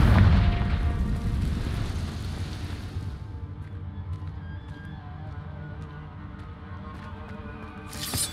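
A Confringo fire spell detonates in Hogwarts Legacy with a loud, broad blast up front, then a long rumbling, crackling decay that fades under a steady low bed, with a brief burst near the end.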